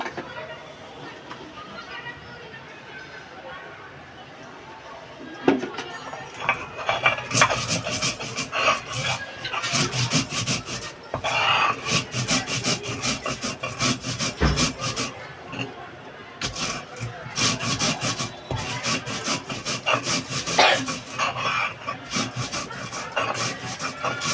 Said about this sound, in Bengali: আর এখানে আমি ওই সজনে ডাঁটা করার জন্য সর্ষে নিয়ে নিয়েছি আর এই চারকোয়া রসুন আর কাঁচা লঙ্কা এটা আমি বেটে নেবো